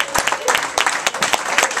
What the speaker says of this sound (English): Let's give a warm round of applause for the Jason Sampson Quintet.